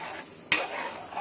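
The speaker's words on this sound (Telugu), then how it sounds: "ఒకసారి మళ్ళీ కూర తిప్పుకోండి." Mutton curry being stirred in a pot: a single sharp scrape of the spoon against the pot, then a soft simmering hiss, close and alone.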